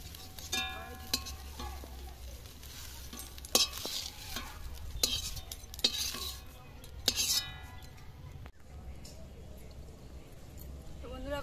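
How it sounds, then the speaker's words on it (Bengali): Fried eggs lifted out of a pan with a metal utensil, bringing repeated sharp scrapes and clinks against the pan over a faint sizzle, with a person talking throughout. "আমরা ডিমগুলোকে এবার তুলে নিচ্ছি।"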